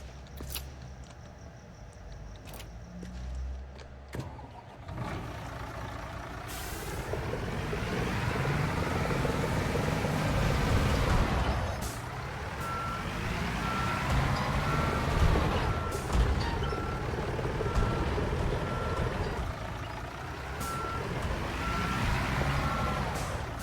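Construction Simulator 22 video game: a truck's diesel engine rumbles and revs, with a regular reversing beep sounding through the middle and a brief hiss near the start, all fairly loud and with no talking.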